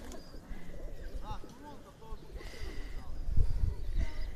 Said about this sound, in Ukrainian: Дуже багато, велика кількість голубів.